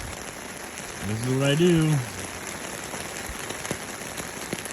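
Heavy rain falling during a fishing trip in the Pacific Northwest, a steady close hiss of drops on surfaces throughout, with someone speaking briefly over it early on.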